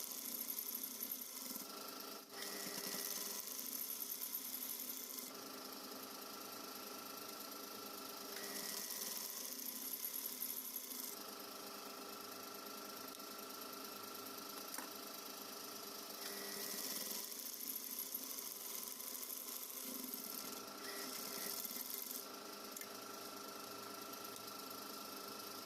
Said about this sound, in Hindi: 5 इंच पे स्टिच करते हुए हमें इलास्टिक के ऊपर और एक सिलाई लगानी है